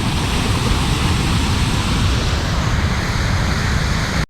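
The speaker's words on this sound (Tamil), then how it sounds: "செம்மையா தண்ணி பாஞ்சிட்டு இருக்கு." Water rushes through the Kantale dam in Trincomalee as a loud, unbroken roar of broadband noise that holds steady throughout before cutting off abruptly at the end.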